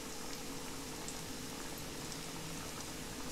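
Coriander kothimbir vadi deep-frying in hot oil over a medium-high flame, a steady dense sizzle and crackle of bubbling oil, close and continuous, with no voices.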